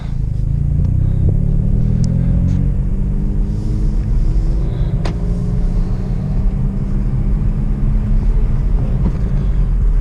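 A Hyundai Veloster N fitted with an SXTH Element intake drives steadily, its loud low engine drone rising in pitch as it accelerates, with wind buffeting and road rumble throughout and no one speaking.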